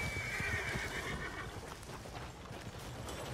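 Horse whinnying in the Western game Red Dead Online, a drawn-out neigh early on over steady hoof clip-clop and outdoor ambience, fairly close and loud, no talking.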